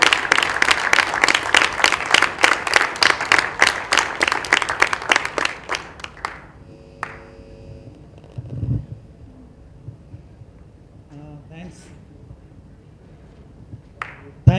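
Audience applause at the 2017 ACA Championship India awards ceremony: a loud burst of hand clapping for about six seconds that tapers off into a quiet room with faint murmurs and a brief voice.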